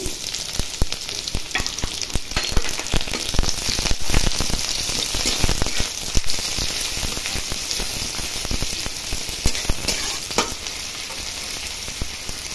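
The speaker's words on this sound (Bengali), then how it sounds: "দেখুন পেঁয়াজ আর রসুন কুচি দিয়েছিলাম," Chopped onion and garlic frying in mustard oil with dried red chillies in a wok, a loud, dense, continuous sizzle with scraping stirs breaking through it, close by and alone without talk.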